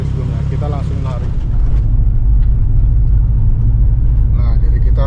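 A Subaru STI, freshly repaired, pulls away with a deep, loud engine rumble that swells after the first second and holds steady, while voices talk over it.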